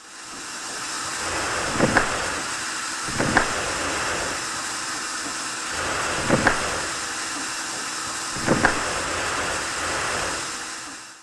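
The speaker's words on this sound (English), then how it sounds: "a weird clicking noise when you move the train brake lever close to or out of the release position" Four sharp, isolated clicks spaced a few seconds apart as the train brake lever on a Clear Creek Porter steam engine in Train Simulator moves near the release position, heard against steady steam hiss.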